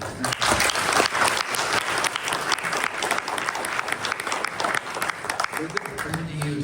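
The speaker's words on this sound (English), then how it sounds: "Round of applause for the panel." An audience at a panel session applauds for several seconds, a full, even patter of many hands with scattered voices mixed in, tapering slightly toward the end.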